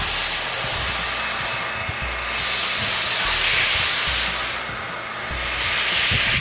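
A foam cannon sprays car soap onto a car in a loud, steady pressurized hiss that swells and dips a few times, close to the microphone and without talk.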